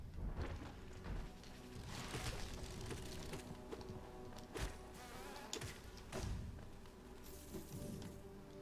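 Buzzing bees in the Hollow Knight video game, a low insect drone with thumps and hits from combat, fairly quiet game audio without talk.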